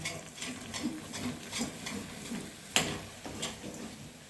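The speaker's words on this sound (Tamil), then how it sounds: "அந்த எண்ணெயை ஊற்றி நல்லா கிண்டணும்" A spoon stirs thick kali in a pan with sesame oil, giving soft, rhythmic scraping and ticking strokes at a steady pace, with one sharper clack partway through.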